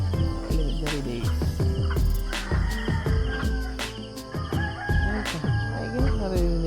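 A rooster crows near a bamboo-walled hut at a beach campsite in Batangas around dawn, a loud drawn-out call set over a dense bed of insect and bird chirps, with a busy, layered morning chorus.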